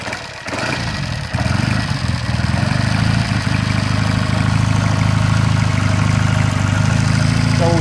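A 1960 Triumph 350cc bobber motorcycle started from hot, a brief kick and catch, then the engine settles into a steady, loud, close idle with an even, thumping exhaust beat.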